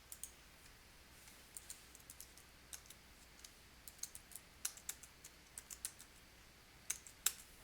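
Computer keyboard typing while entering a customer's name into accounting software fields, a quiet run of light, irregular key clicks with small bursts, close and alone with no talk.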